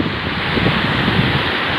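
Water of the Purna river flowing, a broad continuous rushing wash with wind buffeting the microphone, steady and fairly loud throughout, no talk.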